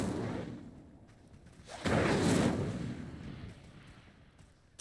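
Incendio fire spell cast in Hogwarts Legacy: a sudden roaring, crackling burst that swells and then fades over a couple of seconds, moderately loud over quieter ambience.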